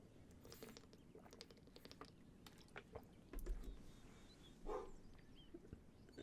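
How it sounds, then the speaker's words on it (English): A dog barks in the video game Genshin Impact, set in Liyue: faint, scattered short barks among light clicks and tapping like keyboard typing, with no talk. "He's barking."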